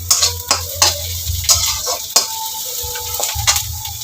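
Onions fry in oil in a pan for a fish curry, a continuous bright sizzle broken by sharp clicks and scrapes of a spatula stirring, close and clear with no talking.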